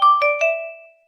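A Xiaomi phone ringtone sounds as three quick bright chime strikes, each ringing out and fading cleanly, alone and fairly loud.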